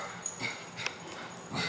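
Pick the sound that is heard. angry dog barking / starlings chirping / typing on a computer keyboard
angry dog barking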